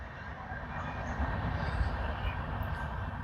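A train runs along a railway track beside a plot of land, a steady low rumble of wheels and carriages rolling past at moderate distance, continuous throughout with faint background noise.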